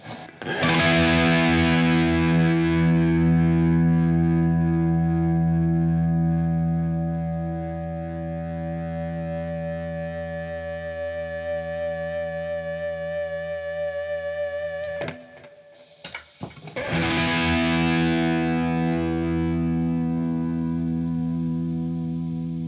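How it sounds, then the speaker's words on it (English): An electric guitar chord rings out heavy and distorted through a tube guitar amp, sustaining and slowly decaying, then is struck again after a brief cut. "play a chord on the guitar, hear how the pickups react with the amp"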